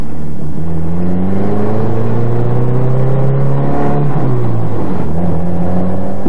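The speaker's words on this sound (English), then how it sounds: "We took the MG out for a spin today." A modern MG sports car, a small low-slung roadster, drives steadily past with a loud, continuous engine drone that rises and falls slightly in pitch, close and alone without any voices.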